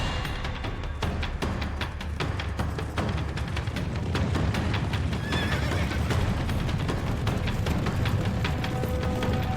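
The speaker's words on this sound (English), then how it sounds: "400 years later, over 1 million Mustangs run wild." Wild mustang horses whinny and neigh over dense, rapid hoofbeats, a loud, busy herd sound, with a scattering of sharp clip-clop strikes throughout.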